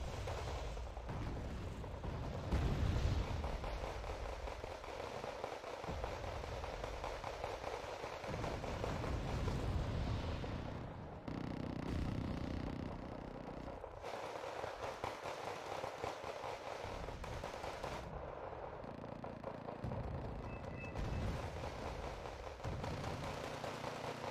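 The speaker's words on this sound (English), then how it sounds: "T-80U gets wrecked by the Hellfire missiles" Hellfire missiles strike a T-80U tank in the Wargame: Red Dragon strategy game, setting off a long, faint stretch of distant explosions and crackling battle noise with uneven thumps and rumbles.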